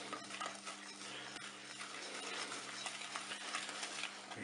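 Soft scraping and clinking of a utensil stirring food in a Cookeo multicooker pot, quiet and continuous over a low steady hum, with no talking.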